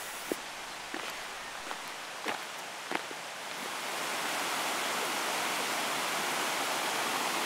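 Rushing water of a river flowing along an old disused tramway leat in Cornwall, a steady broadband roar that swells up and holds after a few soft crunching footsteps near the start.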